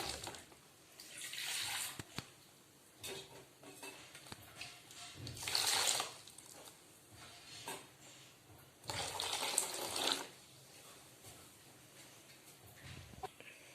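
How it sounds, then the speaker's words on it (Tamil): Water splashes and pours into a cooking pot for fish curry in several bursts, the stream starting and stopping, fairly close and moderately loud with quiet gaps between. "தேவையான அளவுக்கு தண்ணி ஊற்றிக்கலாம்."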